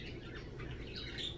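A pet bird gives faint, scratchy squawks and chirps over a low background rumble, with its thin calls rising briefly near the end.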